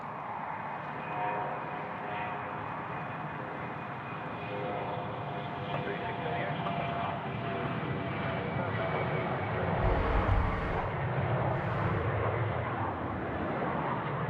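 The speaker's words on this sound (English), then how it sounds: "We've got the 717 now rolling, runway 34 right" A Boeing 717 jet rolls for takeoff on runway 34 right at Sydney Airport, a steady, loud engine roar that swells slightly toward the end, with voices faintly underneath.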